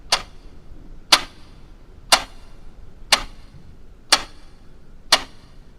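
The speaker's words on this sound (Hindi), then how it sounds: "सिर्फ घड़ी के सेकंड की आवाज" A clock ticks off seconds in a silent dark room, six sharp, evenly spaced ticks about one second apart, close and clear against near silence.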